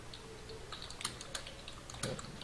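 Keys clack in scattered bursts on a computer keyboard during a gaming podcast, faint and close-miked over low background hum, with no talking.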